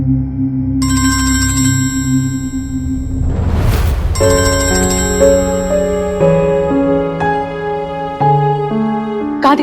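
A mobile phone rings with a loud melodic electronic ringtone in a Hindi comedy show scene. A rushing whoosh cuts in partway through, then the chiming tune resumes in a bright, stepped pattern of repeated notes.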